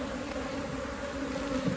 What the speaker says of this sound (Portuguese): Um enxame bem forte.